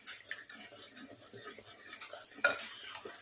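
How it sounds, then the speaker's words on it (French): A spoon stirs three eggs and sugar in a bowl, giving soft, close, repeated scraping and tapping strokes, with a brief clink near the end and no talking. "nous allons pouvoir mélanger nos 3 œufs avec notre sucre à la cuillère"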